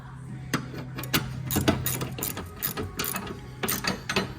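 Close, crisp ratchet clicking comes in quick bursts as bolts on a Wright ZXT zero turn mower deck are cinched down, set over a faint low mechanical hum.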